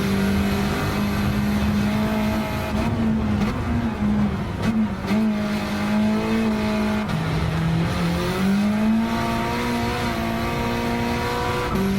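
A Honda race car in Gran Turismo 7 climbs a hill, its engine a loud, steady drone that rises and dips with gear shifts, joined by faint tire noise throughout.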